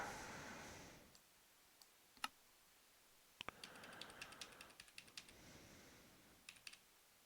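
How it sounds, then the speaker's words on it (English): Quick, uneven clatter of computer keyboard keys being typed and tapped, with sharp isolated clicks, played close and fairly quiet with no talking, during a hardcore vanilla Minecraft session. "You can hear me like rattling on the keys."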